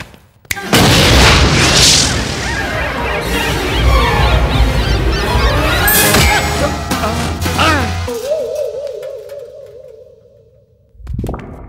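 A gas cylinder blasts under a Sumo car: a sudden loud boom gives way to a long, rough roar of crashing debris. The roar fades and a thin sustained tone carries on near the end before a final thud.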